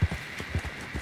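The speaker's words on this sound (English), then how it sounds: "That's one good looking horse you got there." Horse hooves clip-clop in the Red Dead Online video game, five or six steady, evenly spaced low thuds at a walking pace, fairly close and alone without talk.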